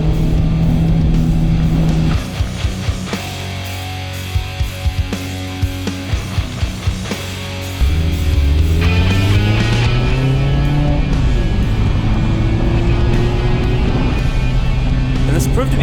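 A Mazda Miata fitted with a Goodwin Racing Roadster Sport 4 exhaust idles with a burbly note, blips the throttle a few times, then revs up loudly through rising gears close by.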